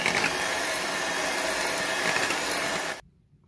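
Eggless cake batter made with yogurt being beaten hard in a bowl, a steady dense whirring churn lasting about three seconds, close and loud, then cutting off abruptly into near silence.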